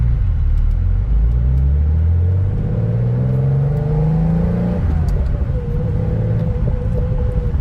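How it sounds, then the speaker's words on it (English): A 1986 Porsche 911 Turbo accelerating with a loud, close engine note that climbs in pitch, drops as a gear changes, then holds a steady drone, with no voices. "Shifting the car is nice and easy."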